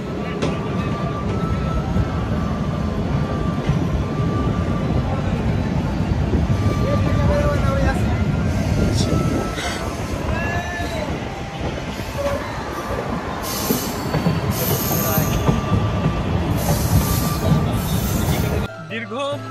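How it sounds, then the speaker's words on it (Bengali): Jahanabad Express intercity train passing the Jurain rail gate, heard from on board: a loud, continuous rumble of wheels and carriages with rattling, squeals and clacks throughout, dropping off abruptly at the very end. "আমাদের ট্রেন পার করছে জুরাইন রেলগেট।"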